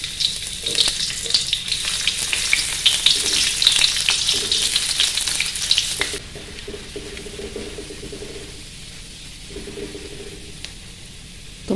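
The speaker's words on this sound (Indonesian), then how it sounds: "Pertama, tumis bawang merah." Shallots sautéing in oil in a pan, a loud bright sizzle with stirring scrapes for about six seconds, after which the frying drops to a quieter, steady hiss, heard close and with no talking.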